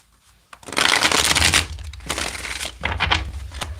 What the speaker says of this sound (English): Let's get 3 more shuffles here.